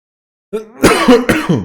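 A person clears their throat and gives a couple of short, rough coughs, close and fairly loud.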